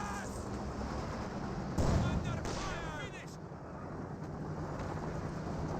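Artillery and flak fire from a Company of Heroes 2 match: rumbling booms with one heavier blast in the middle, over a steady battlefield din while a commentator talks.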